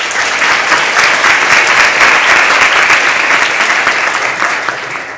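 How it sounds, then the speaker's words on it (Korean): An audience at an international history and constitution academic conference applauds continuously for several seconds. The dense, loud clapping fills the hall and fades slightly at the end, with no talk over it. "다시 한번 큰 박수 부탁드립니다."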